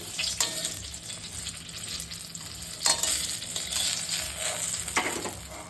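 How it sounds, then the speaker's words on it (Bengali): Eggplant slices fry in a little oil over low heat, giving a close, steady sizzle with occasional louder crackling bursts and light scraping. "এই বেগুন ভাজছি"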